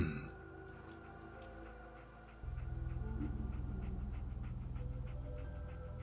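Dogmeat, the dog companion in Fallout 4, panting rhythmically and close by, quick breaths in a steady run that grows louder partway through, with a low game hum underneath.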